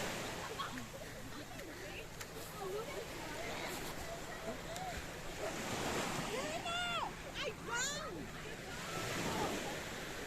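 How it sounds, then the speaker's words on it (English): Sea waves wash onto a sandy beach, surging and receding with steady rushing noise and wind buffeting the microphone, while gulls or voices cry out briefly over the surf. "As you can see, the waves are trying to get me."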